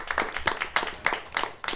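A small audience at a school committee meeting claps in a brief round of applause, scattered hand claps with an uneven rhythm, close and moderately loud.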